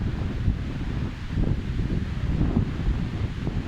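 Strong wind from Typhoon Fabian roars steadily, without rain, buffeting the microphone with low rumbling gusts and no voices.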